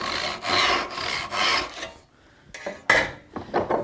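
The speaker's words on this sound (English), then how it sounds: "And then I'll go ahead and make my cross cut." Hand saw cross-cutting wood in a woodworking shop, a series of rasping push-pull strokes in a steady rhythm for about two seconds, then a pause and a few shorter, scattered strokes, close and fairly loud.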